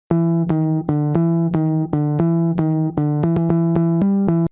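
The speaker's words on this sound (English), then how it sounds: "We have, you know, the high octave bass that sounds like this." A synth bass plays a bouncy run of short repeated notes in a high register, loud and upfront, with a brief pitch change near the end.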